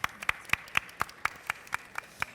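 Sparse applause from an audience, about ten distinct claps in a steady rhythm, fairly close and moderately loud.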